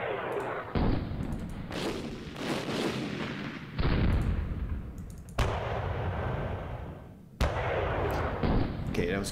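Repeated heavy artillery guns firing in the wargame Panzer Campaigns Orel 43, several loud booming blasts with rumbling tails spaced a second or two apart, close and dominant.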